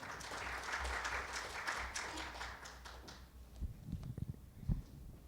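Applause from a forum audience greeting a speaker at a health-care policy event, dense clapping for about three seconds that fades into scattered claps and room noise.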